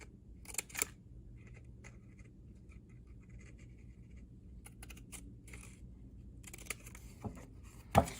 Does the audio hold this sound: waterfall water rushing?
no